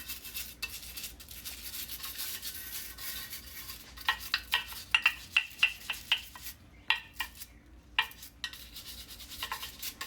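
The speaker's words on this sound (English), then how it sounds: "I'm just gonna scrub this just like that, and get all of that residue and grease" A brush scrubs grease and residue off the grill of a Ninja Foodi Smart XL, giving a steady scratchy rubbing with a run of sharp, evenly spaced scraping strokes in the middle, close and moderately loud.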